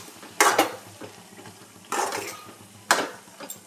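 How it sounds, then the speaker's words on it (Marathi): A pea and potato vegetable dish is stirred in a pan, with three distinct scraping strokes against the metal and faint sizzling between them. "छान परतून घ्यायचं आपल्याला"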